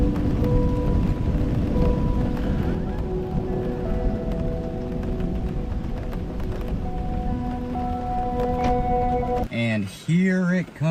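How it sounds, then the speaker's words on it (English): Steady heavy rain pours down during a severe lightning storm with high winds in the northeast, a constant dense hiss that fills the scene while a person talks over it. A brief quieter break comes near the end. "Rain is definitely coming down now."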